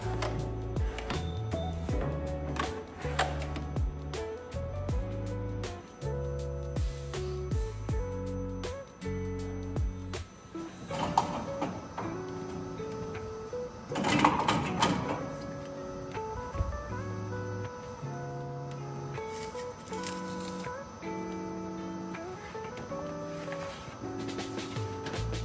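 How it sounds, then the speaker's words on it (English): A Roland TrueVIS LG-640 UV printer runs a nozzle test print, its carriage ticking and clicking in a regular mechanical rhythm with whirring motor passes, heard close with no talk. "running a test print to check all the nozzles are firing as they should"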